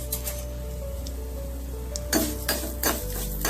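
Vermicelli roasting in a pan for paal payasam, stirred with a spoon: a few sharp metallic scrapes and clinks rise over a steady low hum, close and moderately loud, with no talk.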